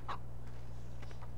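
Chickens in the Farming Simulator 2013 game cluck in a few short bursts over a steady low hum.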